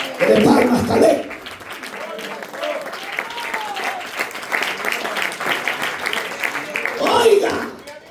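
A church congregation applauds at a Spanish-language sermon, clapping loudly at first, settling into a steady lighter patter with voices mixed in, then swelling again near the end.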